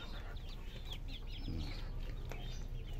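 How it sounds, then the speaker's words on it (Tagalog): Free-range chickens on a farm in Tanawan, Batangas cluck faintly in the background over a steady outdoor hiss, with a few soft bird calls scattered throughout. "Alagang manok."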